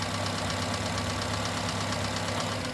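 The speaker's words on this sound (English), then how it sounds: "so that's running, and I'll shut the car off" A car engine with a misfire idles steadily and close, a continuous rumbling drone with a faint rhythmic pulse and no break or shutdown.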